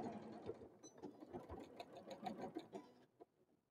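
A Janome sewing machine stitches along the bottom seam of a fabric zipper pouch, a steady rapid mechanical whir with quick pulsing needle strokes, close and continuous before stopping near the end.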